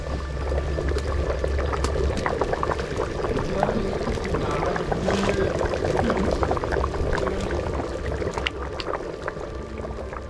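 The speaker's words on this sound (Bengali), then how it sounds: "খিচুড়ি হচ্ছে দেখুন" Khichuri bubbles and simmers in a pot over an outdoor fire at dusk, a dense, steady churning and popping with crackles throughout.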